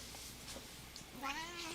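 A cat gives a single drawn-out meow at the end, close and fairly clear, following a stretch of quiet room noise with faint rustling.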